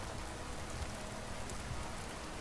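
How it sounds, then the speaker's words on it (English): Steady dense rain from the Vintage Story survival game, a continuous broadband hiss of drops at even level throughout, with no voices. "Well, it's dark and rainy."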